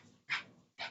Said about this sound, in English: So like, yeah, that's my dog.